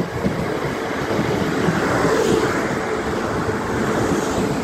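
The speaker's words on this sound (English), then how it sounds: "Here's a full view of the train. It's going quite slow." A train rolls slowly past the platform at Bedhampton station, a close, steady broadband rumble and rushing noise that holds for several seconds, with no talking.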